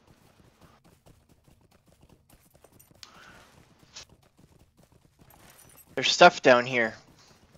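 Soft, regular clip-clop of horse hooves in the online game LotRO runs quietly throughout, with a few louder effect sounds and a person talking briefly near the end.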